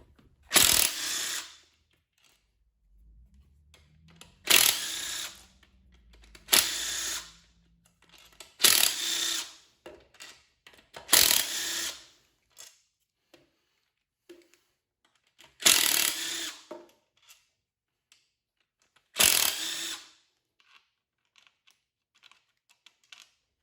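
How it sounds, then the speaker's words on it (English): Seven 10mm bolts come off a Mustang transmission pump assembly during a rebuild, as a ratchet gives about seven separate bursts of rapid clicking, each a second or so long, with quiet handling noises between them. "So we have 7 10mm bolts here that we need to remove."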